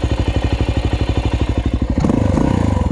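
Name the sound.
Honda XR400R or Suzuki DR350 motorcycle engine running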